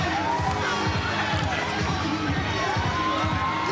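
A small crowd at a CFL football game in Las Vegas makes a steady, dense murmur with scattered shouts and cheers, heard throughout under a broadcast commentator's voice.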